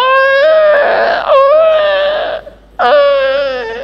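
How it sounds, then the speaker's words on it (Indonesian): An infant wails in two long, strained cries separated by a brief gasping pause, loud and close with no other voices. "Maka terdengarlah suara lirih, teriakan seorang bayi."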